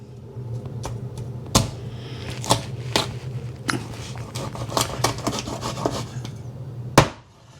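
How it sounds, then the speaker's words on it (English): Knife cutting salted striped bass, halibut and shad into pieces about an inch long on a board, with repeated sharp chops and scraping strokes at an irregular pace, close and fairly loud, over a steady low hum. "So now I'm gonna cut them probably in about 1 inch, maybe 3/4 of 1 inch."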